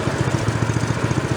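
Small engine of a free snow blower idling after repair, a close, steady low chug with even rapid pulses.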